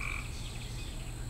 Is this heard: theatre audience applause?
no